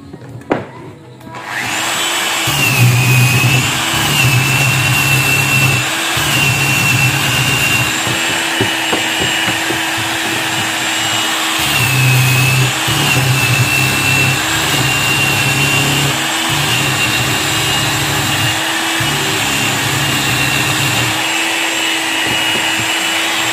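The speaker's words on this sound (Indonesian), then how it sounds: "Sesudah kering kita amplas memakai mesin amplas gerinda ya." An electric grinder-type sander whirs continuously on a wooden table, its motor pitch dipping and rising as it presses against the surface.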